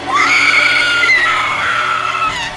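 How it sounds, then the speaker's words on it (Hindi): A woman's scream, loud and sustained, rising in pitch and holding for over two seconds before trailing off, heard alone without talk. "तभी उसके चिल्लाने की आवाज आई"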